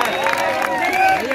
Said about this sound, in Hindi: ताली बजाना चाहिए हमको अपने नेता।